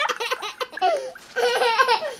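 A Fingerlings baby monkey toy gives high, bubbly electronic giggles in two bursts separated by a short pause. The laughter is close and clear, with no talk over it.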